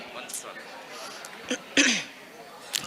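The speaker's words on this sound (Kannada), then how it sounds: "ಸ್ವಲ್ಪ ಕೆಮ್ಮು ಇದೆ ನನಗೆ" A woman on a stage at a Yakshagana event gives a few short coughs and throat clears, brief bursts close to the microphone with no speech in between.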